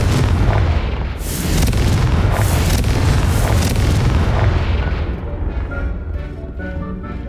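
The Confringo fire spell in the game Hogwarts Legacy explodes with a loud, rumbling blast that rolls on and slowly fades over several seconds, heard alone without speech.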